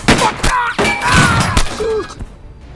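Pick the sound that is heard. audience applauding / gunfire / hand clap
gunfire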